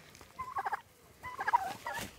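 A flock of four-month-old white farm turkeys lets out two distinct rapid gobbling bursts, close and moderately loud, separated by a short quiet gap.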